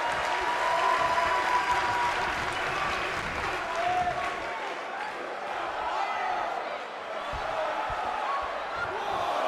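Crowd at an NWA World Middleweight Championship wrestling title match, sustained applause and crowd noise throughout, with a commentator talking over it.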